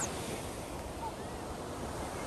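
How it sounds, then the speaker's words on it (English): Ocean waves on Copacabana beach in Rio de Janeiro send a continuous broadband wash of surf, roughened by wind buffeting the microphone, steady and fairly close with no clear voices. "And the water is a lot of waves."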